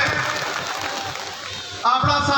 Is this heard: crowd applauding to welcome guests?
yes